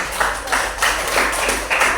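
Short burst of applause from a classroom group, several hands clapping in uneven waves at close range, with no talking over it.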